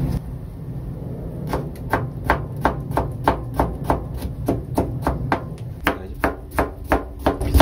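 A knife slices thinly through peeled potatoes on a cutting board, steady crisp chops in an even rhythm of roughly three per second, close and clear with no talk.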